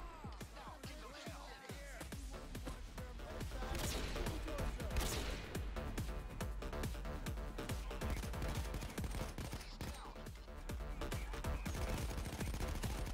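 Dense rapid gunfire rattles almost without pause through a Goat Simulator match, sharp repeated shots and impacts piling up into a continuous loud barrage.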